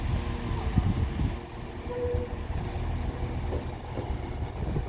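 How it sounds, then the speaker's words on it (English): A West Midlands Railway Class 196 diesel unit, number 196-101, pulls out of Wolverhampton station on the West Coast Main Line, a steady low rumble of engine and wheels with a faint horn-like tone partway through. "Now departing is going to be the 1604 West Midlands Railway service to Birmingham New Street with 196-101."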